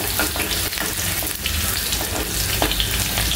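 Garlic sizzling steadily in a hot pan while cooking a Maharashtrian dried-fish (jawla) dish, a dense continuous fry with faint stirring scrapes and no voices.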